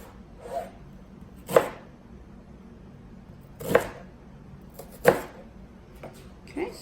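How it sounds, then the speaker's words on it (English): Knife chopping onion on a cutting board for salsa: a handful of separate, sharp chops spaced irregularly with quiet pauses between, heard up close. "Just kind of make your cuts about the same size as your tomatillos."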